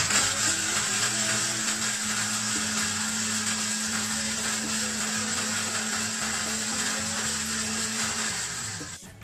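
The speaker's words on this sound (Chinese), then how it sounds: "为什么要把番石榴放下去果汁机打呢？" A countertop blender runs steadily for about nine seconds, whirring loud and close as it blends guava flesh, then the sound begins to fade at the end.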